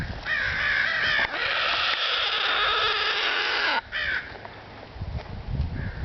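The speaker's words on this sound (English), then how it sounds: "Listen to all the birds going crazy." Crows caw loudly and excitedly at a fishing spot, harsh calls overlapping in a raucous burst that breaks off near the four-second mark, leaving faint rustling and a few scattered calls.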